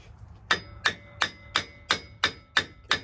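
A hammer tapping the end of a CV axle during a 6-inch Rough Country lift install, eight sharp metallic strikes at an even, steady rhythm, close and clear with no talk.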